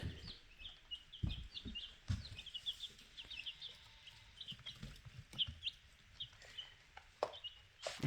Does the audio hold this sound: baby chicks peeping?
yes